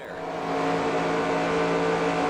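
NASCAR race car in NASCAR Racing 2003 at Atlanta, its engine holding a steady high drone that swells as it accelerates, loud and close with no voices over it.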